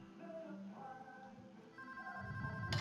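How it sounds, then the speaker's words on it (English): An office telephone rings in the Payday 2 heist game, with repeated electronic trills over a busy background of game sound and music, moderately loud. "One of you guys answer the phone and pass me"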